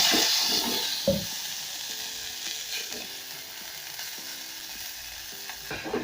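Tomato paste, garlic and ginger hit a hot frying pan with a steady soft sizzle, a sharp crackle near the start, then light stirring scrapes over the continuing hiss.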